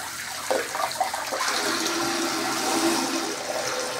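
Water gushes from a high-pressure tap into a bathtub at Lourdes while hair is washed, a loud steady rushing flow that swells after a brief start.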